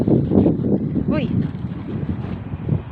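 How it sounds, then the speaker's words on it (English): Wind gusting across a snowy outdoor spot in Kongsvinger, Norway, roaring steadily into the microphone as a rough low rumble, with a person talking to a dog over it. "Wow, it's windy now, Karma."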